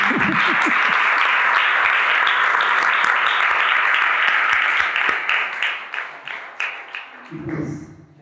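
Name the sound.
audience applause after a lecture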